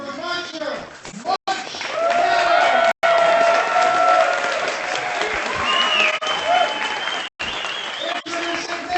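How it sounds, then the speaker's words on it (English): Loud, sustained applause from a large crowd at a grappling submission event, with cheering and shouts mixed in, broken by a couple of brief drop-outs. "Let's hear it for Mansher"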